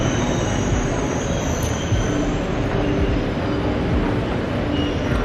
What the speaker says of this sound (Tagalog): Ipapakita ko sa inyo yung MRT nila.